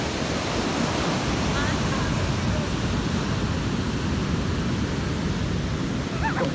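Sea waves wash steadily onto a beach near Salalah, Oman, a continuous close rushing surf with wind noise and no clear voices.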